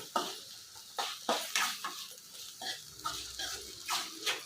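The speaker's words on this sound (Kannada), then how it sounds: "ಈಗ ಚೆನ್ನಾಗಿ ಕೈ ಬಿಡ್ದಂಗೆ ಫ್ರೈ ಮಾಡ್ಕೊಳ್ಳೋಣ." Soya chunks and spinach rice masala frying in a pan, heard as repeated scraping stirs and soft sizzling with occasional utensil clinks, close and moderately loud.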